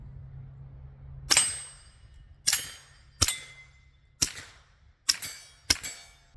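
Six sharp gunshots from a Taurus G3 pistol firing steel case ammunition, fired singly at irregular intervals of roughly a second, each loud crack trailing off with ringing decay over a low steady hum.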